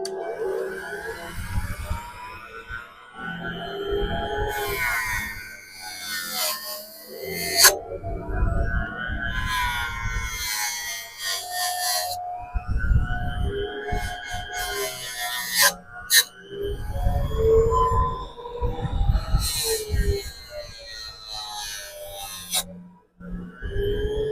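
A power grinding wheel with a worn pad works over an old 1938 HammerBrand tool, a loud, close, whining grind that rises and falls in long passes with brief gaps as the tool is repositioned.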